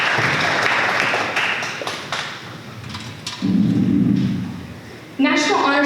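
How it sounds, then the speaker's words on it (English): An audience at a National Honor Society induction ceremony for high school students claps in a loud, dense wash of applause that swells and fades, with voices speaking over it near the end. "Let's give these students a round of applause."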